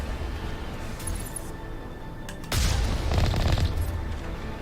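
Cannon fire in the video game Mass Effect Legendary Edition: a sudden burst of booming blasts over a constant, noisy game backdrop, loud and dense for about two seconds.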